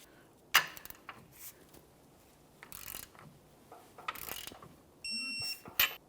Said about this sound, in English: Now we can tighten and torque our shock lower mounting hardware.